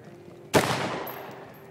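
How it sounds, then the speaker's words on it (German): A single loud gunshot in the tactical shooter Ready Or Not, a sharp crack followed by a decaying room echo lasting about a second. "der hat doch auf uns geschossen!"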